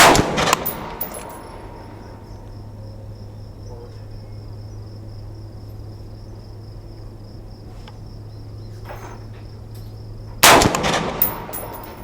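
AR-15 rifle firing full metal jacket rounds at an outdoor range, a loud close shot or two at the start and another sharp report near the end, with a steady insect-like hum between.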